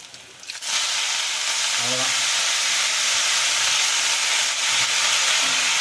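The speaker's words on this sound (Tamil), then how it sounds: "இப்போது எண்ணெய் கொஞ்சம் காஞ்சிருக்கு மிளகா போட்டுக்கினேன்" Dried red chillies dropped into hot oil, a loud, steady broadband hiss and sizzle that swells up after a brief quieter opening and holds evenly throughout, close by.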